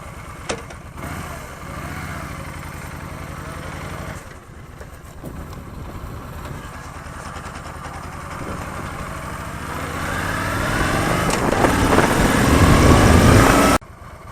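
A 2015 Yamaha Stryker motorcycle engine fires up and settles into a steady, loud, close idle, then the revs climb in the last few seconds before it cuts off abruptly.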